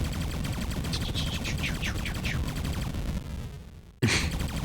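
Rapid turbo-fire shooting in a retro video game, a steady stream of fast repeating shots with chirping effects, cut off abruptly before a single loud hit.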